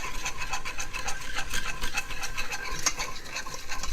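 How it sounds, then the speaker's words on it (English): Metal whisk stirring flour into melted butter in a pan for a cheese sauce, a steady scraping, rasping swish with a faint sizzle underneath, close and continuous. "using a whisk. I find it to be the best tool to do this"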